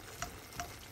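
Pork steak frying in a pan, a soft steady sizzle with two faint ticks or pops standing out, with no one talking.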